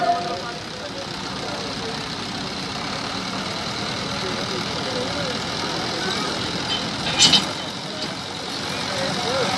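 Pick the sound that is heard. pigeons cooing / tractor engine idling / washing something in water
tractor engine idling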